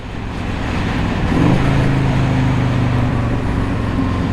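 Engine of a 1984 Harley-Davidson FLT Tour Glide heard while riding, a steady low rumble that swells around the second mark and holds at an even, moderately loud drone with road noise.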